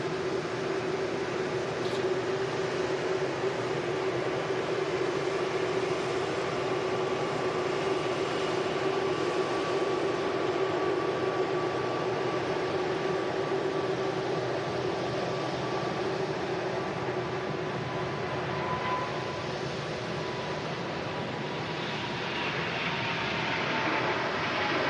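An Airbus A350's jet engines spool up for takeoff at Manchester Airport, heard from a distance as a steady, broad roar with a sustained tonal whine, unbroken and fairly loud for the whole stretch, with no talking.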